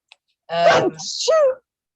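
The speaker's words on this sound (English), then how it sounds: "No, that was a sneeze and it hurt" A single sudden sneeze, a sharp voiced burst followed by a hissy exhale, close and loud in an otherwise quiet room.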